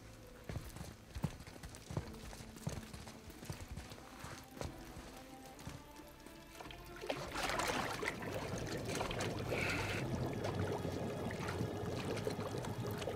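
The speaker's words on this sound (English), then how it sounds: "Now, hold his head under the water and don't let go." In the God of War video game, a head is held under water, bringing water sloshing and bubbling that starts sparse and swells into a steady, dense churning wash.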